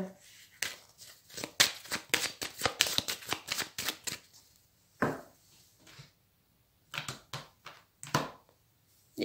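Tarot cards used for readings being shuffled and cut, a rapid run of crisp riffling flutters with short pauses between bursts, close and fairly loud, with no talking.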